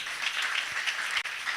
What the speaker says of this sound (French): Applaudissons pour ces dieux-là.